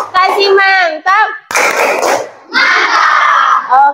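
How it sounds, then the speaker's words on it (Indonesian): Classroom of students in Indonesia clapping hands together on the teacher's cue, bursts of dense clapping loud and close, interleaved with children's and a teacher's voices speaking and calling out. "Oke, tepuk tangan semuanya."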